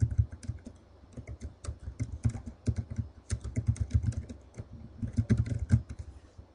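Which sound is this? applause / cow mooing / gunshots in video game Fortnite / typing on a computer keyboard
typing on a computer keyboard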